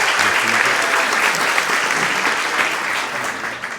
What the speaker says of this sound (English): Let's give a giant round of applause for David Johnston